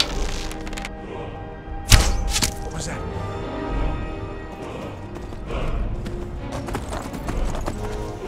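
A horse's hooves clip-clop steadily in Skyrim, one heavy thump standing out early, all running beneath someone narrating continuously.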